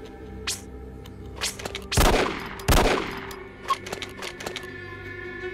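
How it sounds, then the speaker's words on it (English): Machine gun fire in the game After Dusk, two loud sharp bursts near the middle among scattered lighter cracks and thumps, over a steady low hum. "The ultimate warrior snuck up on that guy from behind and shot him with a machine gun until he was dead."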